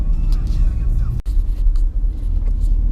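A car rolls through the tiny, narrow streets of an East German city. Loud, continuous low road and engine rumble is heard from inside, with one sudden brief dropout and faint higher noises above.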